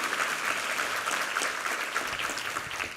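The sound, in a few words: applause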